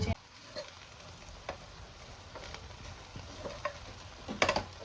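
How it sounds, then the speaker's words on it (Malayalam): Ghee rice stirred in a pot on a low flame, with a soft continuous sizzle broken by scattered spoon scrapes and taps and a brief cluster of louder clinks near the end. "നമ്മൾ ഒന്ന് ഇളക്കിയിട്ട് നൈസായിട്ട് ഒന്ന് ഇളക്കി കൊടുക്കുക"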